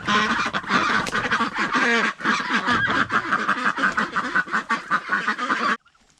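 A flock of geese and ducks honking and quacking loudly and continuously as they are released from their moved houses into a fresh electric poultry net enclosure, a dense close chorus that cuts off abruptly near the end.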